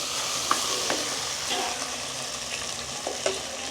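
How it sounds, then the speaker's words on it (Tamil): Dried fish sizzles in hot oil in a pan alongside potatoes, a steady frying hiss with a few sharp pops and stirring scrapes, close and moderately loud with no voices. "இப்போ இந்த எண்ணெய்க்கே என்ன செய்ய போகிறேன்னா அந்த கருவாட்டையும் போட போகிறேன்."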